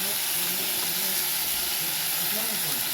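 Spices and eggplant fry in a pan with a steady, close hiss and sizzle that runs unbroken from start to end.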